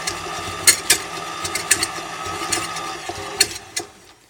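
Electric kitchen mixer churning dry ingredients for keto bacon cheddar biscuits, giving off an odd mechanical rattling and grinding with irregular clicking, ratchet-like knocks over a steady motor whir.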